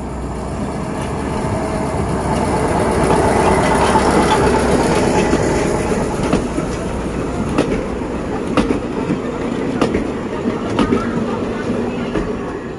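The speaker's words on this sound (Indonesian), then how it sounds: "kereta api diesel hidrolik buatan Jerman yang dibuat pada tahun" A German-built 1961 diesel-hydraulic train rolls past on old Dutch colonial-era rails, a loud, sustained rumble close by, broken by rhythmic clicks of wheels over rail joints.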